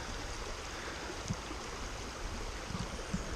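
A creek flowing outdoors, a steady, broad rush of moving water that holds an even level throughout, with a few faint splashes or knocks near the listener.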